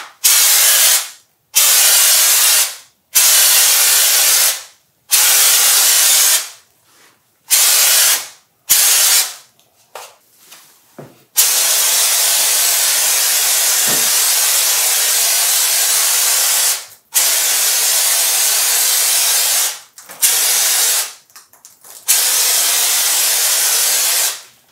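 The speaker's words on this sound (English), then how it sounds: "Say I had a patch on the ceiling and start spraying it." Loud hissing bursts of an aerosol popcorn ceiling texture spray can, short intermittent blasts at first, then a long sustained spray followed by a few more bursts.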